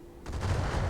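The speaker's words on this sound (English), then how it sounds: "And that's an ammo explosion" An ammunition explosion in the Battletech video game, modded with Roguetech, sets off a sudden loud blast that becomes a dense, rumbling roar of crackling detonations.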